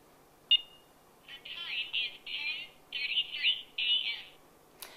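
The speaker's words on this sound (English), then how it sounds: "if you wait for it to beep, it will confirm your choice" A four-button talking clock gives a short, clear electronic confirmation beep while its voice setting is being chosen, followed by a run of higher chirping tones, all fairly quiet in a still room with no talking.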